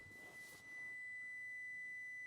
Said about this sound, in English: And it's beeping because the truck's not running.